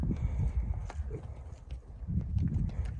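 A horse walks nearby with a steady, uneven clip-clop of hooves on the ground, close and fairly loud, with faint background noise and no clear speech.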